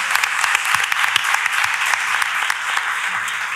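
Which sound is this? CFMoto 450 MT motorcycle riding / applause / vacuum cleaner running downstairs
applause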